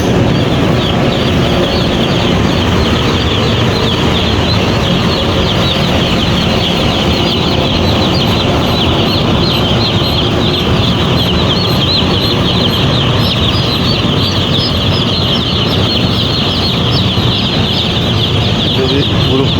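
A dense, continuous chorus of many chicks chirping at once in an incubator room, loud and close, with a steady mechanical hum underneath.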